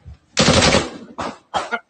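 Gunfire on a city street in Montgomery, Alabama: one long, loud burst of rapid shots followed by two shorter bursts close behind it, with no talking.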